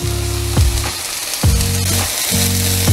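Ground turkey, celery, garlic, thyme, salt and pepper sizzling loudly in a pan, a dense frying crackle broken by three heavy scraping stirs that drag and squeal against the pan.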